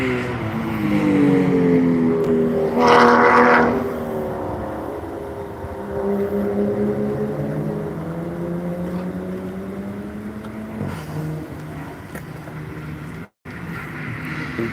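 An Audi race car drives the road course section of Nashville Superspeedway, its engine note rising in a loud pass, then settling into a steady droning pitch that slowly fades, with a brief cut near the end.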